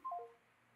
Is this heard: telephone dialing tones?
yes